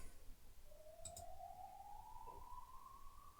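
Ambulance siren passing outside, a faint distant rising wail climbing slowly in pitch over a few seconds, muffled behind an indoor hum.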